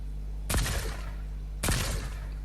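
The Stark Industries phaser gun fires twice in Fortnite, about a second apart. Each shot is a sharp, bright burst with a brief crackling tail over a steady low hum.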